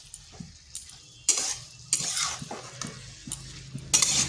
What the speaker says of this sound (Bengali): এটা 2 থেকে 3 মিনিট কষে দিচ্ছি